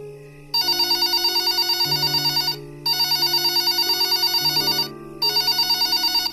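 A telephone rings in an animated horror cartoon, three long electronic bursts separated by short pauses, loud and close, with a low background melody.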